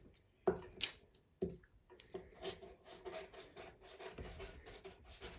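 Glue being spread on paper laid over scrap paper while making envelopes, a few soft scratchy rubbing strokes followed by a continuous faint rasping scrape, close and quiet.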